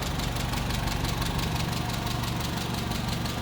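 A 1959 Hillman Husky's 1390cc inline four-cylinder engine idling steadily, a close, even mechanical hum with a fine rhythmic tick and no talk.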